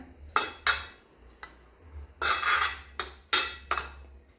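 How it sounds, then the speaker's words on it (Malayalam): Spoon clinking and scraping in a pot of pulissery, a Kerala yogurt curry, being stirred: several sharp metallic taps and short scraping strokes in irregular bursts, close and fairly quiet, with no talking. "പുളിശ്ശേരി മിക്സ് ചെയ്യുന്നു കണ്ട"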